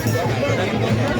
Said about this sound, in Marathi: गर्दी खूप आहे इकडे